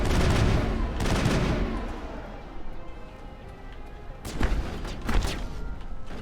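Bursts of gunfire in the sci-fi shooter Mass Effect during a fight with geth, loud close volleys at the start, a quieter stretch, then more sharp rapid bursts near the end.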